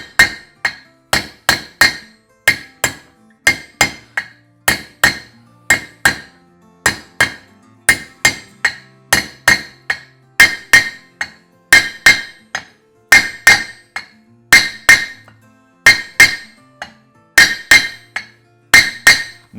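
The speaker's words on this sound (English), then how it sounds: "You'll see I always use a copper hammer when I'm driving bearings like that." Repeated sharp metallic copper-hammer blows drive a bearing into a Land Rover Series III swivel hub casting, struck in a steady rhythm of evenly spaced taps with a ringing clink, close and loud with no talking.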